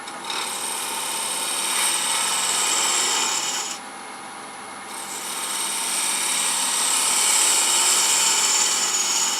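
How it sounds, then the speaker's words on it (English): A cove tool hollows end-grain wood on a lathe with a steady, close, hissing scrape that dips briefly midway and then resumes, with no voices. "we can come in and we can just start hollowing with his Cove tool without too much fear of catching it."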